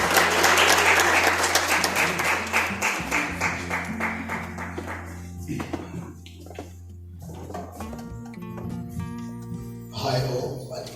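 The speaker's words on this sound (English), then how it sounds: "Let's give him a round of applause." Audience applause greeting a speaker coming forward at a cooperative financial institution event, loud dense clapping at first, thinning toward the end, then a short renewed burst, with a low hum underneath.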